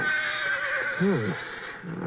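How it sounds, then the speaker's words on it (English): A horse in a corral lets out a sharp, wavering whinny at close range before dawn, rising and falling in pitch, then a shorter neigh follows. "one of the horses down the corral was sure upset about something"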